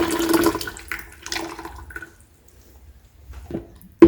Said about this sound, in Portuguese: Eu peguei uma jarra, vou colocar